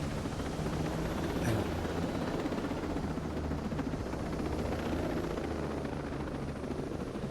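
A helicopter in the video game Ghost Recon Breakpoint flies with a steady, heavy rotor drone and a low rumbling roar that fills the whole stretch at an even level, with no voices.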